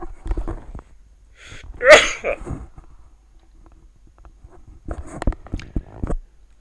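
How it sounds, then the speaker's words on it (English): A single sharp sneeze in the middle, close and loud, with soft rustling and shuffling around it. "Hopefully that's the only sneeze to come."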